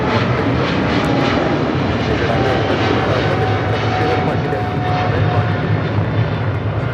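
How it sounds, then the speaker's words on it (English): A Qatar Cargo Boeing 777 freighter departs from Los Angeles International Airport, its jet engines producing a loud, sustained roar that stays close and constant, with a brief voice in the background. "That is Qatar Cargo Flight 58 Alpha departing to Liège on a 777 freighter"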